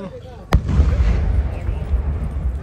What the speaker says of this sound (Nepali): फायरवर्क चलिरहेको छ